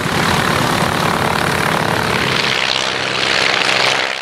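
A vintage propeller monoplane flies by at an air show, its engine a loud, steady, rough drone that fills the whole stretch and swells slightly near the end.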